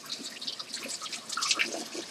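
Water runs and splashes at a kitchen sink as a potato is rinsed, a soft, steady trickle with scattered drips and splatters close by, no voices.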